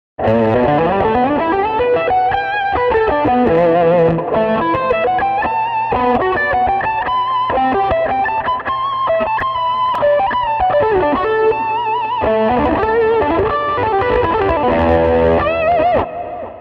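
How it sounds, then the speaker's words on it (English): An overdriven electric guitar, driven by a TS-808 into a dirty amp channel, plays a continuous melodic line with chorus shimmer and echo trails, loud and sustained with no voices. "I'm using the TS-808 to drive the dirty channel a little bit harder"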